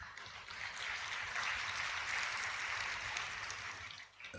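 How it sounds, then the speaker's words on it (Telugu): A church congregation claps together in a steady, sustained round of applause that swells and then tapers off after a few seconds. "చప్పట్లు కొట్టారు"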